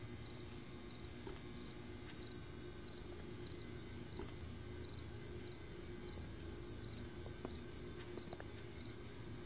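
Nighttime crickets in 7 Days To Die give a regular train of bright, evenly timed chirps that carries on steadily over low background ambience, with a few faint clicks and no voices.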